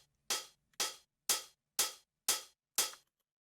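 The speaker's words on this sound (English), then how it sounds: "We also have a new hi-hat that's coming in" A new hi-hat in an oriental house track plays alone: six crisp, bright strikes evenly spaced about half a second apart, each with a short fading tail, clear and close with no other sounds.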